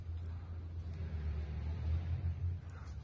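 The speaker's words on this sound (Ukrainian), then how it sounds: "Зараз чутно, як від'їжджає наша машина." A Ukrainian military vehicle drives away in Sievierodonetsk, its engine a steady low rumble at moderate distance, faint and continuous with no talking.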